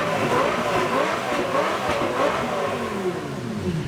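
A Lamborghini engine revs hard and steadily while the car spins donuts, a loud continuous roar with rising and falling pitch throughout.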